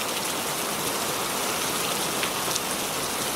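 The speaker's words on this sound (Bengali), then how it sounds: "এ কি, এই বৃষ্টি তো কয়েকদিন থেকে থামছেই না।" Steady cartoon rain falls, a dense even hiss of drops on surfaces with a few brighter drip ticks, continuous and fairly close, with no voices.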